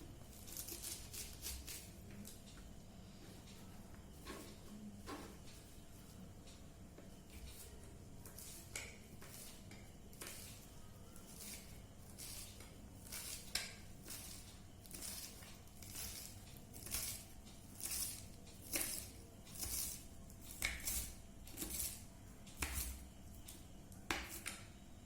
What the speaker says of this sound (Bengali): প্রথমে আমরা ধনেপাতাটাকে কুচি কুচি করে কেটে নেব